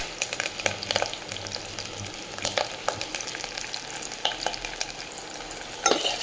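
Garlic, onion, green chillies and curry leaves fry in a pan for garlic tamarind curry, a steady close sizzle broken by repeated scraping stirs, with no talking.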